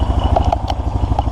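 Honda Rancher 420 ATV engine idling after its clogged fuel injector was cleaned, a close, loud, steady rhythmic chugging with mechanical clatter.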